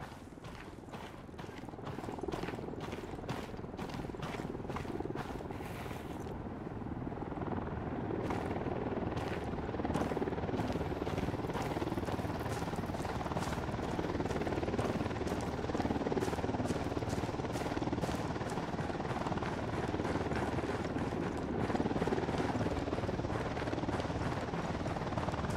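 Helicopter in the video game Ghost Recon Wildlands, its rotor a steady, loud thumping drone that runs the whole time, with rapid blade chops and a constant roar and no clear speech.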